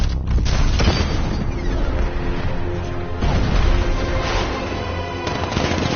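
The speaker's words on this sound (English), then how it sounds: "60mm cannon operational." A 60mm cannon firing in the Batman Arkham Knight video game: heavy, booming rapid-fire blasts with rumbling low end and crashing impacts, continuous and loud throughout with brief surges.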